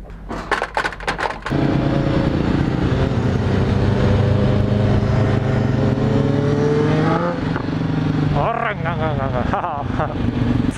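A Husqvarna 610 supermoto motorcycle engine at full throttle, chasing a BMW S1000RR and an R1: after a few sharp pops, a loud sustained roar rises steadily in pitch, then drops with rapid gear-change revving near the end.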